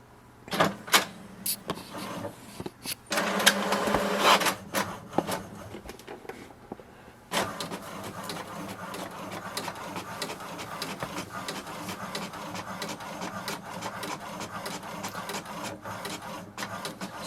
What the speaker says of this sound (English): So here we can see it has printed as well.